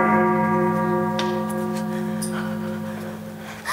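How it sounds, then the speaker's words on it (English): A single bell strike in a high school stage production of Macbeth rings out loud and close, its tone sustaining and slowly fading over several seconds with faint stage noise beneath. "The bell invites me."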